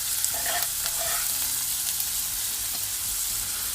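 Chopped onions and carrots frying in oil in a pan give off a constant loud sizzle, with a few stirring scrapes heard through it and no talking.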